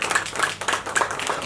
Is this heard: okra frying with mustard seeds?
no